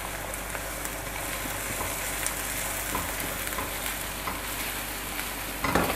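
Garlic and ginger paste fries in a pan for kabab karahi, giving an even, dense sizzle throughout, with faint stirring scrapes and a brief louder clatter near the end, no talking.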